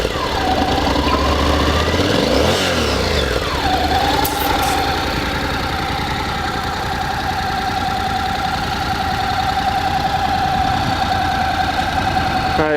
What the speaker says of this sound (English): Parallel twin 700,